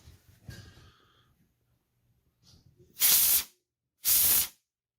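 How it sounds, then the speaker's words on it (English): A handheld pressurized steam cleaner fires two loud, close bursts of hissing steam, each lasting under a second, following a few soft clicks and handling noises. "you can see it's a pretty powerful jet of steam."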